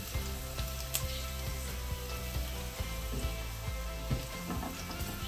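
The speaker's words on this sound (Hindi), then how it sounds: "थोड़ा सा मैंने ऑयल लिया है और इसको मैं फ्राई करूंगी।" Food frying in a little oil with constant stirring, a steady crackling sizzle with regular scraping strokes of the spoon, close and continuous.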